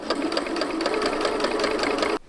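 A sewing machine stitches a seam through fur in a fast, loud, even mechanical rattle of rapid needle strokes close by, then stops abruptly near the end.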